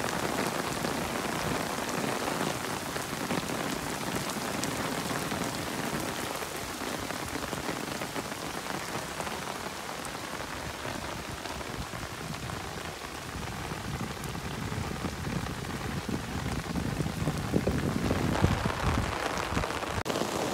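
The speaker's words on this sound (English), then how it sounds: "Wow, this rain is just amazing. I haven't seen it rain this hard, hardly ever." Heavy rain pours down outdoors near a driveway, a dense, loud and continuous hiss of drops pounding surfaces for the whole stretch, with no voices.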